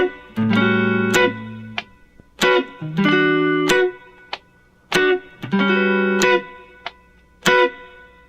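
An electric guitar plays the chords of a song in short rhythmic strummed stabs, soft thumb-picked low chords mixed with bright nail strums, repeating in a steady groove with no talking.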